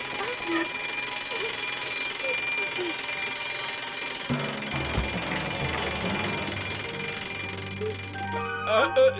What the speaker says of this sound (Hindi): ये तो सिक्योरिटी अलार्म है।